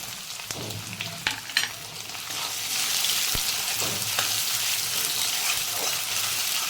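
Dried loitta fish and chopped onion fry in hot oil with a steady, dense sizzle, a few sharp clatters of stirring at the start, then a continuous crackling hiss that swells and holds close and loud.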